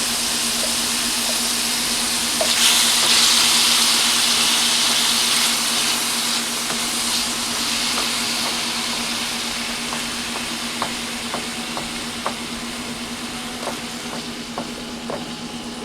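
McCormick mild chili mix sizzling in a fry pan over an outdoor fire, a steady close hiss with occasional light ticks and pops, and no voices.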